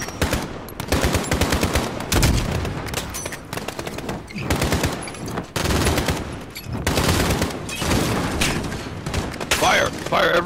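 Dense, loud automatic gunfire from the Call of Duty Modern Warfare campaign, rapid bursts packed back to back with booming shots throughout, and a player's voice shouting over the battle.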